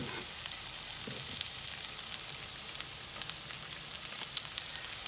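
Vegetables with onion fry steadily in oil in a pan, a constant close sizzle with faint scrapes of stirring running underneath throughout.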